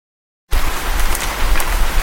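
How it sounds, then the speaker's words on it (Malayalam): Heavy rain starts abruptly after a brief silence, a dense, close, steady hiss of downpour with scattered spattering drops continuing to the end. "നല്ല മഴ"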